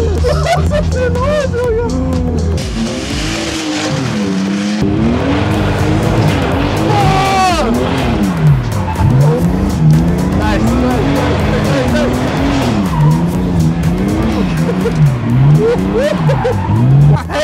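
A car drifts around the Hockenheimring race track, its engine revving and wailing in rising and falling sweeps while the tires squeal, loud and continuous throughout, with people talking excitedly over it.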